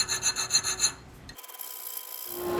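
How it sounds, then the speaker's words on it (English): A hand file rasps a sharpening notch into a hunting knife blade in a short series of rhythmic strokes, followed by a brief, quieter scraping sound. "I'm just going to file down and make that sharpening notch"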